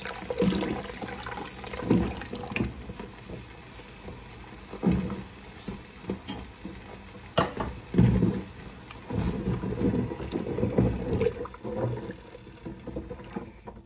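Lemon juice poured gradually into hot milk while making cheese at home, a soft liquid splashing and trickling with louder surges at intervals, heard close up and alone without talk.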